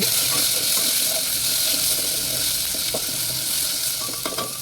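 Mustard seeds and cumin crackle and sizzle in hot oil, a loud dense frying hiss with scattered popping and stirring clicks that thin out slightly toward the end.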